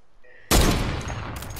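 A sudden loud burst of video game gunfire erupts and rings out as a dense crackling volley for about a second, preceded by a brief quiet moment.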